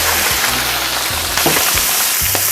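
Chicken liver sizzles and fries in sunflower oil in a cauldron, a constant crackling hiss broken by a few clanks of a utensil stirring against the metal.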